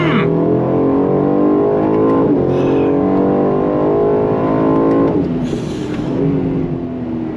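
Aston Martin DB12 Volante convertible engine revving in second gear on the brakes up to 7,000 RPM, a loud rising harmonic wail climbing steadily, dropping briefly after about five seconds and then holding high again.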